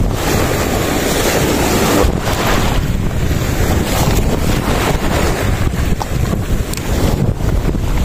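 Strong wind buffets the microphone at sea from a small fishing boat, a constant loud roar with gusty surges and the wash of waves beneath.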